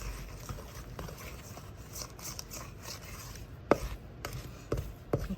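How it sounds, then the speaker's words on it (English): A wooden spoon mixes pumpkin bread batter in a bowl with soft, continuous scraping and stirring. A few sharper knocks come near the end, close and with no talk. "I've switched over to a wooden spoon so the batter becomes well combined."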